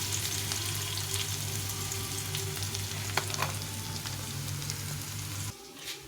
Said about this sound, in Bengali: আলুটা ভাজা ভাজা হয়ে গেছে আলুটা ভাজা হোক